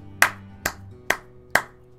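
A few sharp, evenly spaced hand claps as applause, about one every half second, close and distinct against near silence.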